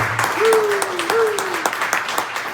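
Audience applause for performers at a ceilidh runs in a steady wash of claps beneath a high, sustained whistle-like tone, with a voice speaking over it.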